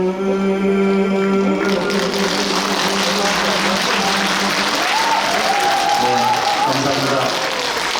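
A live audience applauds and cheers at a political gathering in Suncheon, a dense, steady wash of clapping that holds throughout, with music fading out early and a voice briefly heard over the crowd.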